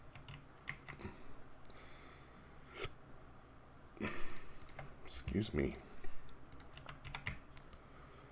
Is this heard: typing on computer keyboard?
yes